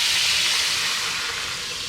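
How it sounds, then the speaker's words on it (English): A loud, steady hiss of orange juice sizzling in a hot Instant Pot, slowly fading a little over two seconds. "It's gonna sizzle."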